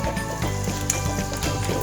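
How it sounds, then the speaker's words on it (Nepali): Fenugreek seeds dropped into smoking-hot mustard oil while making a raw mango chutney give a steady, close sizzle that stays even and unbroken, with no talking. "जुन अघि हामीले अलिकति पाकिराखेको मेथी छ अब त्यो हामी यसमा राख्दैछौँ"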